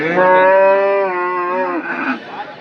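A cow at a livestock market moos loudly in one long, drawn-out, wavering call that trails off into rougher, fainter lowing, close by.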